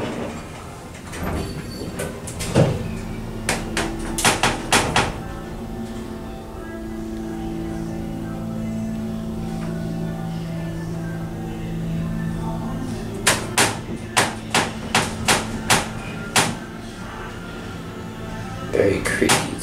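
An old, still-original United States hydraulic elevator at the Grand Sierra Resort bowling alley in Reno, its doors creaking and clattering in bursts of sharp clacks, with a steady mechanical drone between them and voices nearby.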